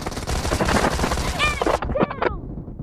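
Thompson submachine gun fire rattles in a dense, rapid burst in a PUBG Mobile team deathmatch, followed by a few sharper shots and game effects, with a voice heard over the gunfire.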